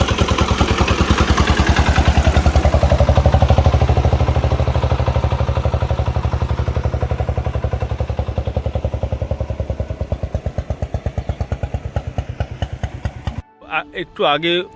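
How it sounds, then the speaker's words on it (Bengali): A motorized engine van in a Bangladesh border village chugs loudly and close with a fast, even engine putter, slowing and fading near the end before cutting off, with a voice briefly heard at the very end. "নৌকা চলছে এবং সঙ্গে চলছে ইঞ্জিন ভ্যান"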